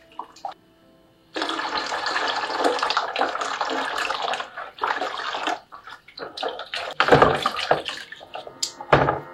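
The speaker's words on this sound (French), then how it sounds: "Donc, je vais rajouter un peu d'eau tiède pour obtenir une bonne bave." Lukewarm water pours and splashes onto live snails in a container, coming in uneven gushes and trickles after a quiet start, close and fairly loud.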